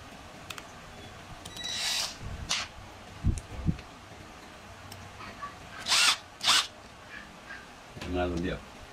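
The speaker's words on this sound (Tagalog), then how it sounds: "ipitin natin siya dito sa ating drill" A power drill spins the propeller of a homemade mini outboard motor built for an RC boat, giving several short, loud whirring bursts separated by pauses, with someone talking in between.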